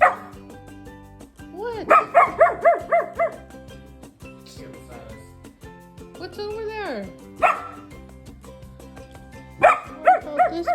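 A 10-week-old full-bred German Shepherd puppy lets out bursts of rapid, high yipping barks and whimpering whines, close by and loud, with people talking between the outbursts.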